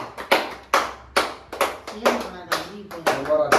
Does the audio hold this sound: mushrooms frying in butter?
no